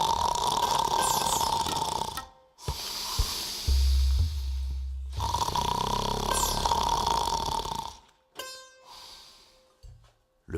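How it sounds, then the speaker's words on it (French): A sleeping man snores loudly in a children's storybook scene, with long rasping, snorting breaths repeating in slow cycles separated by short pauses, close and alone. "il posait sa lourde tête sur sa poitrine et s'endormait en ronflant bruyamment"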